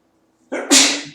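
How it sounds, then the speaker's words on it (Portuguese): A single sharp sneeze from a teacher in a classroom where chalk dust is in the air, a quick intake then an explosive burst, loud and close. "eu estou espirrando aqui, mas é o giz"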